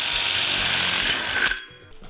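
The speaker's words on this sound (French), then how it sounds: "on va percer tous les 60 cm notre fourrure avec une mèche métal" A drill with a metal bit whirs briefly through a metal furring channel during wall insulation work, a short close grinding whine that stops abruptly.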